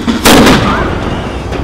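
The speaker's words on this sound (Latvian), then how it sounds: "lielgabala šāviens 9 vakarā no Lakabaņa cietokšņa" A single cannon shot fires from La Cabaña fortress in Havana, a sharp, loud boom that quickly gives way to a long rumbling echo fading across the open air.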